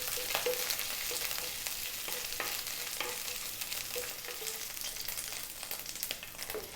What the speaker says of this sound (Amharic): ስጋውን እንጠብሳለን ማለት ነው።